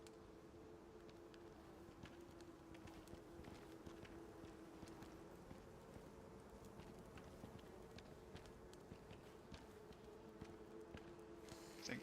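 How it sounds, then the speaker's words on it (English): Bees buzzing near a hive inside a tier 3 cave in the survival game Icarus, a steady droning hum with scattered faint clicks and footstep-like taps, continuous and moderately quiet throughout. "I hear bees."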